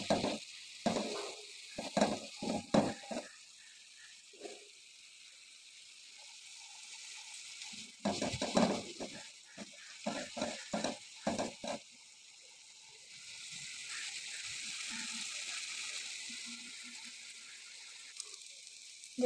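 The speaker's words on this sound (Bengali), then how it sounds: "এখন ভাজি হওয়া পর্যন্ত এভাবে নেড়ে দেবো।" Mustard flowers are stirred as they fry in a pan, with bursts of scraping and clattering strokes over a soft sizzle, then a steadier quiet hiss.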